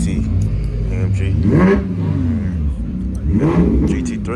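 A Mercedes-AMG GT3 sports car revs at a car show, its engine swelling in two loud, rising blips a couple of seconds apart over a steady idle rumble nearby.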